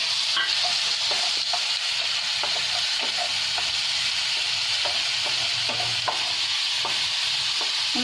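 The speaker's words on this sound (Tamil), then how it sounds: "ஃபஸ்ட்டு இஞ்சி பூண்டு பேஸ்ட் ஆட் பண்ணிக்கோங்க" Ginger garlic paste fries in butter in a kadai, giving a steady sizzle under frequent soft scraping stirs, with no voices.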